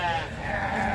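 Goats bleat in quick succession at a crowded livestock market held in hot sunshine, their calls loud and close against a steady murmur of background noise.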